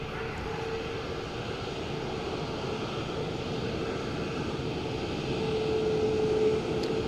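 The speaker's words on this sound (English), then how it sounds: "Ryanair, one of the Maxes, as you can see from the back of the engine cowling." A Ryanair Boeing 737 MAX at Dublin Airport gives a steady, broad jet roar that holds even and swells slightly toward the end, alone without speech.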